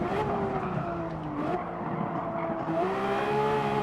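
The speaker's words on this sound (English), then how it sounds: "and then hard on the brakes" Porsche 911 GT3 RS braking hard at the Nürburgring in Gran Turismo 7, a steady loud engine drone with high tyre squeal lines sweeping across it, continuous throughout with no talk.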